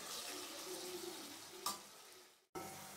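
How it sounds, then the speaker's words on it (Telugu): Half-boiled egg curry frying in oil, with a steady close sizzle and bubbling throughout, a brief brighter crackle partway in, then a short drop to near silence before the sizzle resumes. "ఇదిగో అంతా వేగిపోయింది, ఆయిల్ అంతా పైకి వచ్చేస్తుంది."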